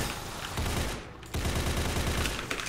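Rapid gunfire in a shooter video game: dense, loud bursts of overlapping shots and machine-gun fire fill the whole stretch, with a brief lull near the middle before the shooting resumes. No one speaks.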